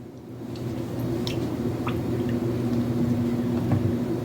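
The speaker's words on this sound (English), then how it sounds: "Then we're going to stir it all up." Apple, peach and apricot fruit is stirred with about a tablespoon of cinnamon for a dump cake, making soft, wet squishing and shuffling sounds over a steady low background hum.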